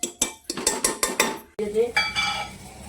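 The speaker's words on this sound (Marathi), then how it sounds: "हे असं लाल जरच भाजून घ्यायचं मिसळसाठी" Misal masala dry-roasting in a pan for Kolhapuri misal, stirred with quick rhythmic scraping strokes against the metal, followed by a steadier stretch of scraping and clatter, close and fairly loud with no talking.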